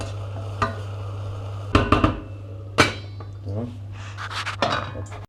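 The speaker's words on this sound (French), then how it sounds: "on va le couvrir pour que ça cuise gentiment comme une compote" A lid set onto a cooking pot of leeks stewing gently for a leek quiche, heard as a few sharp metallic clanks and rattles over a low steady hum, with faint movement sounds between them.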